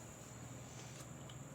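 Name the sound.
crickets chirping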